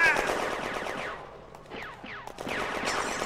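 Machine gun bursts in the WWII tactics game Firefight, set in a town square, with rapid rattling fire and whizzing, descending streaks, loud at first and then resuming after a brief lull.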